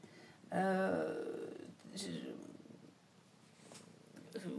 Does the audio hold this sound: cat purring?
yes